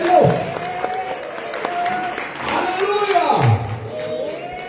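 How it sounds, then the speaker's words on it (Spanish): A church congregation applauding during a service, clapping that swells and fades in waves under an excited voice calling out over it. "bríndele fuerte el aplauso al Rey"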